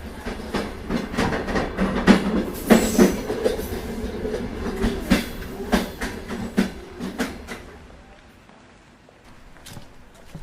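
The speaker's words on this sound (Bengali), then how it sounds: "সময় মতো ট্রেন ছাড়ল।" A train departs and runs along the rails toward Jhargram station, with rhythmic clickety-clack bursts and rattling carriage knocks, fairly loud and close, easing toward the end.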